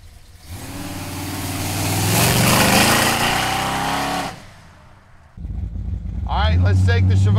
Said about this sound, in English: Let's take the Chevelle for a ride.